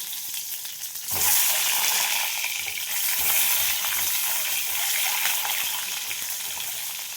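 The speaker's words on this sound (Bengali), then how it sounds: "এবার আমি এই ডিমগুলো ভেজে নেব হালকা করে" Steady loud sizzling of eggs frying in a hot pan, starting abruptly after a second and continuing with crackling spits throughout.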